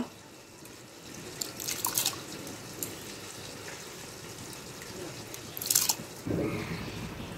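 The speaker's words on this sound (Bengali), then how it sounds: "এবার দিয়ে দেবো ভিজিয়ে রাখা চালটা" Soaked rice tips into a pot of water seasoned with bay leaves, whole garam masala, oil and salt, giving a soft splash and patter amid quiet kitchen clinks and drips.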